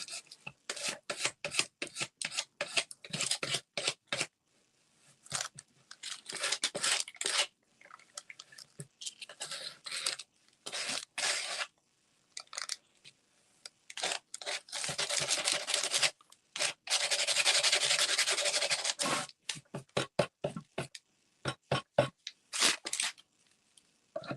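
Coarse-grit sandpaper rasping across a thrifted item being refinished, in irregular bursts of scratchy rubbing strokes with short pauses, close and fairly loud, with one longer sustained stretch of sanding.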